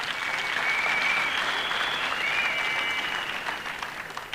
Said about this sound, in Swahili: Na tupigia huyu CJ makofi.